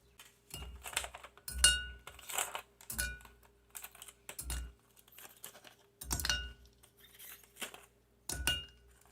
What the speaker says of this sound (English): So I'm going to add some ice cubes to cool it off.